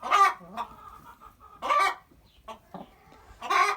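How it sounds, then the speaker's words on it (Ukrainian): Several close, loud clucks and squawks in bursts from Livenskaya chintz chickens, six hens and a young rooster in a summer aviary, with quieter clucking between them. "Тут шість курочок і поселили ми цього молодого півня до них."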